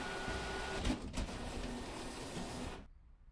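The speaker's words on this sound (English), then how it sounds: "I'll send the modified picture to the printer." A printer in The Hand of Glory video game prints a ticket with a steady mechanical whir and buzz that runs for nearly three seconds, with a couple of faint clunks partway through, before stopping.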